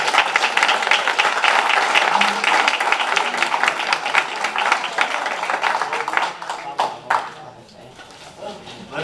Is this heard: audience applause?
yes